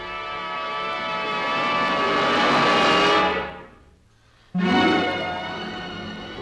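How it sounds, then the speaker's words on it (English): An Atlas rocket carrying a Project Mercury capsule launches with a loud, sustained roaring blast that swells for several seconds, briefly drops out, then returns just as strong, with no voices. "At launch time, the manned capsule with its escape system is thrust into the sky by the 2 booster engines and 1 sustainer engine of the Atlas"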